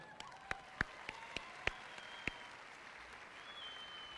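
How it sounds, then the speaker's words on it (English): Audience at a high school graduation claps for the valedictorian and salutatorian, a soft, distant wash of applause punctuated by several distinct louder claps in the first half before thinning out. "Another round of applause for our valedictorian and salutatorian"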